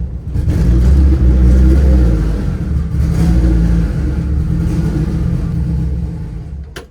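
A big-turbo, fully built Honda Civic four-cylinder idles rough and uneven, misfiring and not firing on all cylinders, a loud steady low rumble with lumpy pulses throughout.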